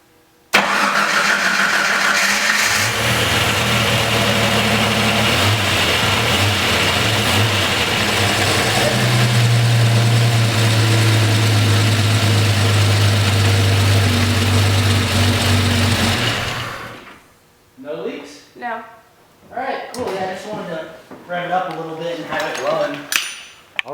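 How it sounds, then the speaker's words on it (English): A Jeep Cherokee XJ engine cranks and fires, then settles into a loud, steady idle for about fifteen seconds before shutting off, followed by someone talking alone. "You guys saw the thing fire up and it idled pretty well."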